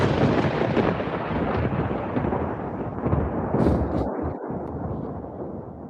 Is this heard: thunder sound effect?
yes